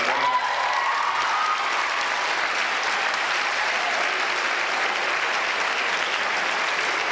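A school audience at Oakridge Secondary School in London, Ontario claps steadily and densely throughout, a sustained wash of applause in a hall with no pauses.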